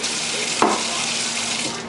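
Water runs steadily from a kitchen tap while something is rinsed, making a continuous hiss with a brief splash partway through.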